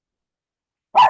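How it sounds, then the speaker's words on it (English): A single short, loud dog bark, close by, at the very end after near silence; the dog is named Ayoka. "No barking."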